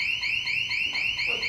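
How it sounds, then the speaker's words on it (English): An electronic alarm sounds continuously in a steady repeating pattern of rising high-pitched sweeps, loud and close with no speech over it. "turn the alarm off or you'll get the uniforms here"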